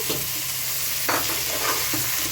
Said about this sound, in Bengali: টমাটারটা একটু ভালো করে ফ্রাই করে নিতে হবে